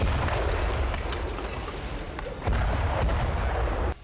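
Heavy rumbling blast from an explosion demolishing a building in Gaza, a sustained deep roar with a second surge midway before cutting off abruptly, loud and with no speech.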